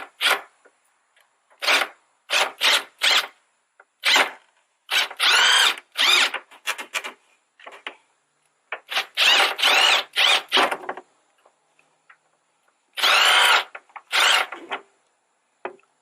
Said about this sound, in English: If you get that screw, get it loose so it's gonna move the headlight out.